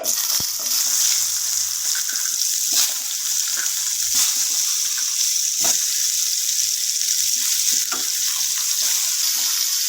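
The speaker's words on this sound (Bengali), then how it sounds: "তেল গরম হয়ে গেছে, কুমড়োগুলো আমি ভেজে নেওয়ার জন্য ছেড়ে দিচ্ছি।" Pumpkin pieces frying in hot mustard oil, a loud dense hiss of sizzling that holds steady throughout, with occasional sharp crackles and spatters up close.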